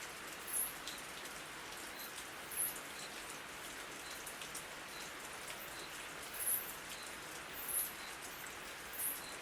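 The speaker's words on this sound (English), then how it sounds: "I will continue with Jungle Rain" Steady jungle rain pours down in a dense, even hiss, with a few brighter drips popping out now and then and nothing else heard.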